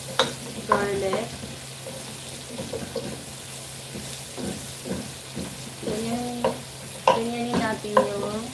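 Chopped garlic sautés in a pan for an Ilonggo-style Valenciana rice dish, giving a steady close sizzle with stirring scrapes, while a voice talks in short bursts.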